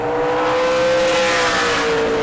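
A Super Late Model race car engine screams at high speed at New Smyrna, a loud sustained high-revving drone with no pause as the car bottoms out in the corners.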